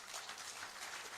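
An audience claps for a presenter at a Kenya Maritime Authority event, a steady spread of many hands heard somewhat distant and fairly faint, running evenly throughout.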